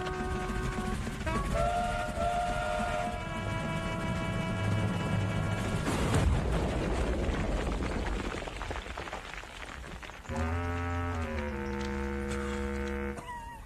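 A toy train set running on its tracks indoors, with a steady rolling rumble and several sustained whistle tones sounding alone throughout.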